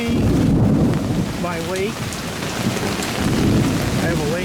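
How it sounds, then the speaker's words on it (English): Heavy thunderstorm with a steady roar of downpour and low rumbling thunder running through, recorded outdoors near flooded ground where water has pooled into a lake; someone talks briefly over the storm. "the storm's been going on for an hour"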